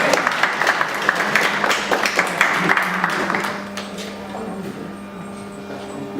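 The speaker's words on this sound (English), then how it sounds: "Oh, can we give her a round of applause, please?" Applause at a Christmas party from a small crowd of many hands, starting loud and busy, then thinning out and fading into a quieter room with a faint murmur at the end.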